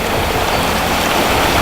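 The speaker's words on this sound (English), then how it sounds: "There's just little waterfalls cascading all along here" Small waterfalls cascade along a riverside near Cullingworth, Bradford, giving a dense, loud, unbroken hiss of rushing water heard close up.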